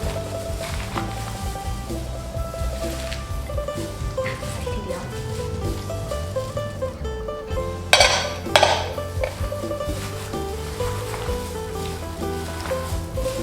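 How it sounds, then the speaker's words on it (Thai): Lao salad greens being tossed and mixed in a bowl, with a spoon or utensil clinking and scraping against the dish, a couple of sharper clatters midway, over background music. "ก็จะมาใส่ผักสลัดลงไปเลยค่ะ จะค่อยๆใส่นะคะ แล้วก็ค่อยๆคลุก"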